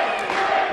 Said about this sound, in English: The crowd coming alive on Firestar.